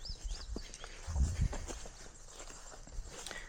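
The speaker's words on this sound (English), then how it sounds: "this is our horse Coco." A mare horse on a small homestead farm walks with faint, irregular clip-clopping hooves and soft shuffles, distant and quiet against low outdoor background noise.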